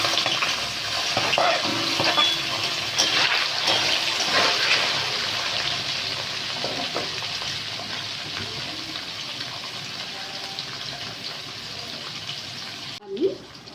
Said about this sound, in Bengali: এবার আমি রিফাইন তেলে পনিরগুলো ভেজে নেব।